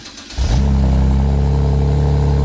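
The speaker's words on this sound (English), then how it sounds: "Alright, this is a cold start." A BMW 328i with a custom exhaust cranks briefly on a cold start and catches, then settles into a loud, steady high idle.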